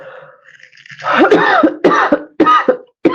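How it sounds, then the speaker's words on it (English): A burst of harsh coughing: several rough coughs in quick succession, close and fairly loud, after a quiet start. "Not burning incense, it's making me cough."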